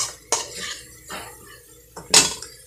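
Spice mix going into a pot of chicken biryani, with a few sharp metallic clinks and scrapes of a utensil against the pot, close and separated by short pauses.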